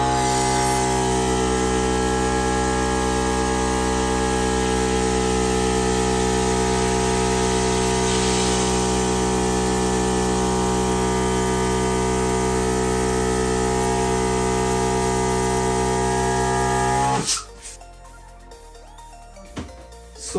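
An electric balloon pump bought from Amazon runs with a loud, steady motor whine and airflow hiss for about seventeen seconds, then cuts off abruptly, leaving quiet rustling.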